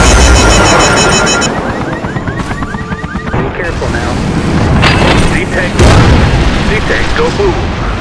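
A tank blows up in the video game Choplifter with a loud opening boom, then rattling gunfire, whistling projectiles and further blasts over a rumbling game soundtrack.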